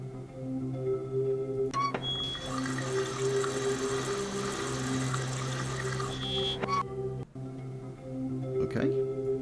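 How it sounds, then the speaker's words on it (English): Water runs steadily in the Buried in Time game while it is refilled at an asteroid station, a loud continuous rushing over a low hum that stops abruptly after about seven seconds. "We're gonna refill the water."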